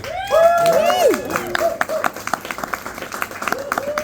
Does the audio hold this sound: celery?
no